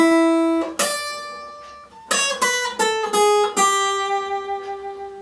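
A single guitar plays a slow, lyrical melody of sustained plucked notes, clear and close, with gentle attacks and ringing decay, no voices.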